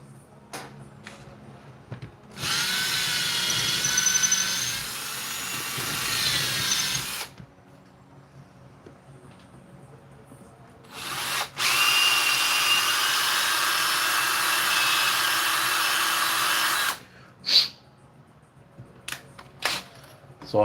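Power drill boring into a 3D-printed Pokémon figure, two sustained whining bursts of several seconds each, close and loud, separated by quieter handling noises and a few sharp clicks.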